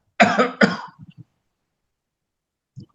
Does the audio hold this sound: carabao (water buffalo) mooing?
no